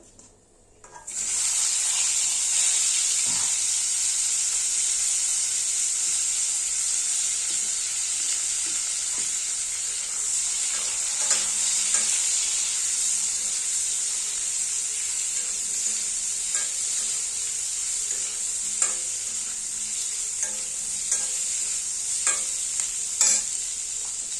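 Boiled potatoes and radish sizzle steadily in tempered oil in a pan, a loud continuous frying hiss beginning after a brief quiet start, with occasional soft stirring scrapes and no talk.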